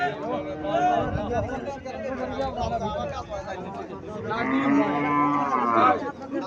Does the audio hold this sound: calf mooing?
yes